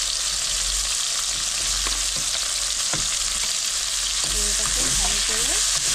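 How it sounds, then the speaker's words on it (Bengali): Chopped onions frying in hot oil with whole cumin seeds for a Bengali katla fish curry, a loud continuous sizzle with occasional stirring scrapes and clinks of a spoon in the pan. "দেখো, আমার পেঁয়াজটা লাল লাল করে ভাজা হয়ে গেছে"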